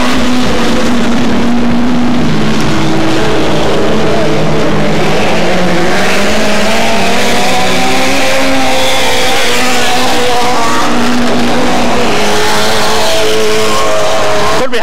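Hot rod race cars roar past on the track at a 1996 meeting at The Pike, a loud continuous engine drone with rising and falling pitch as the pack sweeps by, no talk.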